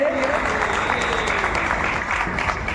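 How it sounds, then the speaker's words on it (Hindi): An audience claps in welcome at a book launch and poetry gathering in Kushinagar, a continuous, fairly close round of applause with faint tonal traces in the background. "सभी लोग मेरे साथ जोरदार तालियों के साथ स्वागत करेंगे।"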